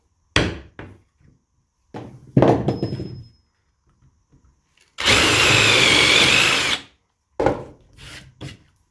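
A power drill bores a hole in wood in a workshop, starting with short knocks and clunks, then one sustained loud whirring burst of about two seconds, followed by more handling knocks close to the microphone.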